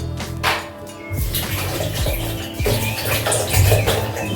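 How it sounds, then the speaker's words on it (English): Water pours steadily into a blender jug for a homemade sugar drink of about 1.5 liters with four spoons of sugar, a continuous splashing rush filling the kitchen, with faint background tones underneath. "So here I'm adding some water."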